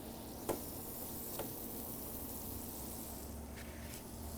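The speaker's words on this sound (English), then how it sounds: "So I've got a pan here nice and warm. I'm gonna go ahead and get in about a half a stick of butter or so." Half a stick of butter sizzling in a warm pan while making crab cakes, a steady soft hiss throughout with a few faint ticks, close and quiet.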